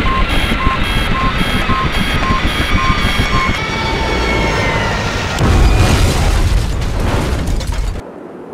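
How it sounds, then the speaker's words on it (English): Helicopter going down in the video game Project I.G.I., a loud, dense rumbling roar with a steady mechanical whine and repeated beeping alarm tones, swelling into a heavier crashing surge near the end before cutting to quiet. "Mayday, mayday, going down. We're gonna crash."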